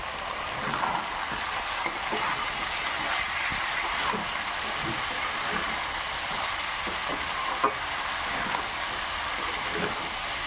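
Shrimp with capsicum and carrot cooking as a Bengali chorchori in a pan, giving a steady broadband sizzle with scattered soft clicks and stirring knocks, close and continuous with no talk.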